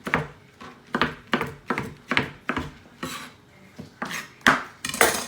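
A knife chops a tomato on a cutting board in a steady series of about a dozen close, crisp strokes, evenly spaced at first and then louder and more scraping toward the end.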